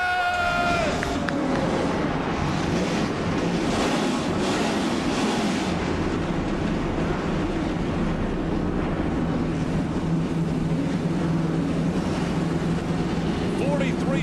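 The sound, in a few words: NASCAR stock car engines starting at Daytona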